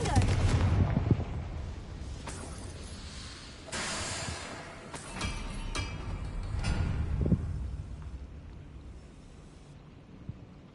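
A Confringo fire spell bursts in Hogwarts Legacy with a heavy, booming blast, followed by crackling fiery impacts and rumbling combat noise that fades toward the end.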